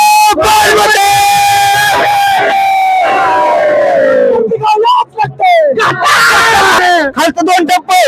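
Crowds of Shiva devotees at the Kavad yatra on the Mungi Ghat at Shikhar Shingnapur shout and cheer loudly together, voices rising in sustained collective yells with a few choppy breaks.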